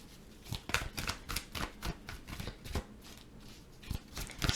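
Tarot cards are shuffled by hand, a string of rapid riffling bursts and soft slaps close to the listener, repeating irregularly for several seconds.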